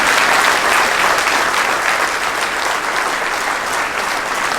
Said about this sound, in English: So please, a little round of applause for all the employees